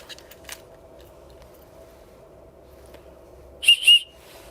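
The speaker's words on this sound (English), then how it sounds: "first item is Trailblazer 3-pack mini aluminum emergency whistles" A Trailblazer mini aluminum emergency whistle gives two short, shrill blasts close up near the end, following a quiet stretch with only faint background hum.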